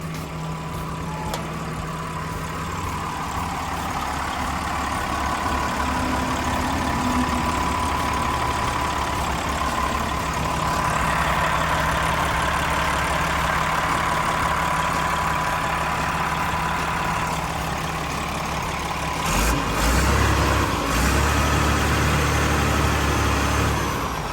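The diesel engine of a Komatsu WA300-3E wheel loader runs steadily at a low, throbbing idle for a long stretch, with a brief change in pitch near the end and no talking.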